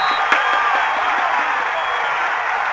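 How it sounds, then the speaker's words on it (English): A varsity high school football crowd at a Belen Jesuit game roaring and applauding after a hard hit on the sideline, a dense steady wash of cheering and clapping, fairly loud and sustained throughout. "That gets the Belen crowd happy."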